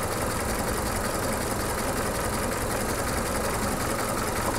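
Volvo 240 engine idling after a carburetor fix, a steady close-miked mechanical drone with an even, unbroken rhythm throughout.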